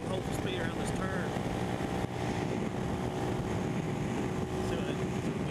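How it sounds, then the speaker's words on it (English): Heavy wind buffets the microphone while a scooter rides at speed around a turn, a steady, loud rush with a brief dip midway and no speech. "There's a lot of wind today, though."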